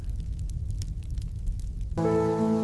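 Steady rain hisses and patters for about two seconds, then gives way to sustained tonal music.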